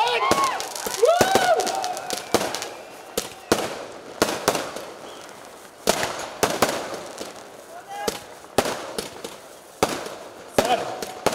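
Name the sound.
firecrackers bursting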